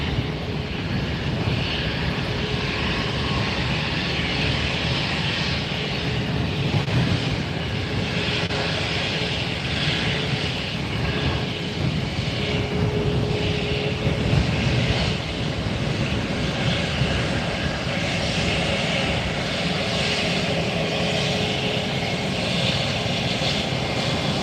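A JetBlue airliner at Fort Lauderdale airport roars steadily and loudly through the whole stretch, a broad continuous engine noise with no pauses and no voices.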